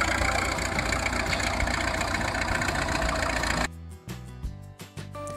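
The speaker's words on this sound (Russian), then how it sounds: "Комбайн собрал весь урожай и возвращается домой на ферму." A combine harvester's engine rumbles and idles loudly and steadily for several seconds as it drives back to the farm, then cuts to quieter, uneven mechanical sounds.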